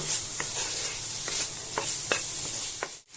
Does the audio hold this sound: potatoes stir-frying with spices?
yes